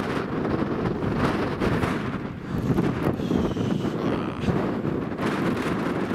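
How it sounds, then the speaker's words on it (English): Strong wind buffets the microphone at a wild camp pitch on Illgill Head, a loud, continuous roar that gusts and swells unevenly with no talk. "The wind's here."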